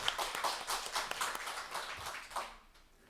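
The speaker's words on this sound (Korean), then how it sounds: "우리 하나님께 영광의 박수를 올려드립시다" Korean church congregation clapping during a Sunday morning service, a quick burst of many hands in loose rhythm with distinct sharp claps, swelling briefly then tapering off within a few seconds.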